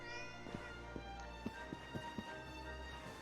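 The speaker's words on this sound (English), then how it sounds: "There's so many cats in here." Cats meow in the Dragon Quest 11 video game against a steady layer of game music, with a few soft, brief taps or footsteps scattered through.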